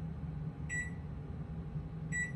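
A microwave oven gives two short, high electronic beeps about a second and a half apart over a low steady kitchen hum, fairly faint and with no talking.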